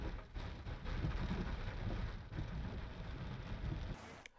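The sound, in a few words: heavy rain in Mumbai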